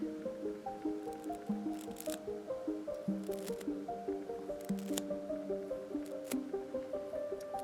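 Paint flicked and spattered onto a small art piece, a quick regular series of soft wet taps and splats repeating steadily, close and fairly quiet, with no voices.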